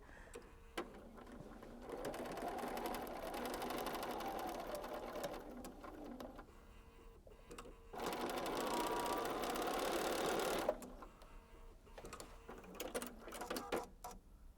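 A sewing machine stitches through quilt block pieces in two sustained whirring runs, each a few seconds long, with quieter handling pauses between them. The motor hum sounds close and steady, and no one speaks.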